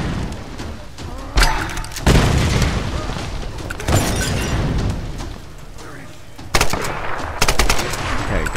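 Explosive blasts from a grenade launcher in the game Tomb Raider, several loud thumping booms spaced irregularly over a continuous rumble of in-game noise.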